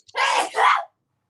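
A single loud sneeze from a person nearby during a breakfast of bacon and hash browns, a sharp two-part burst lasting under a second, followed by silence.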